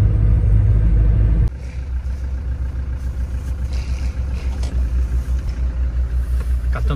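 Heavy trucks crowd a Greek border crossing, with a deep engine rumble and idling drone, a loud close burst at first, then a steady low road-vehicle hum.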